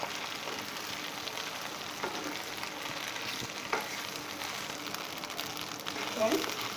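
Macaroni with egg stirred and fried in a pan, a continuous soft sizzle with scraping stir strokes throughout, fairly quiet and close, a few louder clinks near the end.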